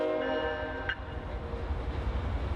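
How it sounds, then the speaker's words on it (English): Passenger train pulling into a station, a low steady rumble of rolling carriages with a brief horn-like tone early on, moderately distant and without talk. "Oh wait, our train's here."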